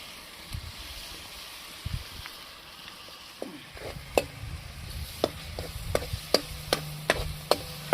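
Garlic-ginger paste masala fries in oil in a pan for a liver fry. A soft sizzle runs under spatula taps and scrapes, which turn into a regular rhythm in the second half.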